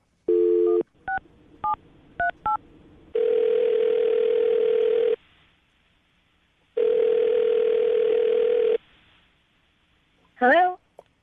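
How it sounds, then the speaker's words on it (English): Telephone keypad beeps as a number is dialed, followed by two long ringing tones with a pause between, then a voice answers briefly at the end. "I'm going to call her right now, see if we can get her on the phone"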